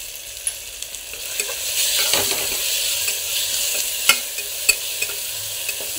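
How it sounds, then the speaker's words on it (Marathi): Chopped tomato frying with turmeric in oil for a kharda mutton biryani, with a continuous close sizzle, a louder hissing swell partway through, and sharp spatula scrapes and taps against the pan. "टोमॅटो पण छान शिजेपर्यंत आपण भाजून घ्यायचा आहे"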